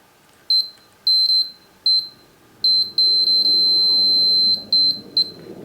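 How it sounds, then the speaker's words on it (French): Multimeter continuity beeper sounding as the metal shaft of a screwdriver closes a circuit on a flashlight: a series of short, loud, high-pitched beeps, then one sustained tone, then a few more short beeps, with no talking. "j'ai une sonnerie qui me dit « le circuit est fermé »"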